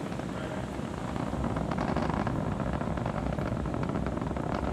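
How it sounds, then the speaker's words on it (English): The nine Merlin engines of a SpaceX Falcon 9 rocket roar during ascent after launch from Kennedy Space Center, a continuous, rough, crackling rumble heard at a distance with no voices over it. "Moments ago, we began to throttle the nine Merlin engines that you see."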